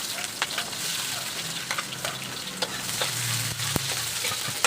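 Onion and garlic sautéing in oil for pancit, a steady broadband sizzle with sharp crackles and pops scattered throughout, close and fairly loud, with occasional low stirring sounds and no talk.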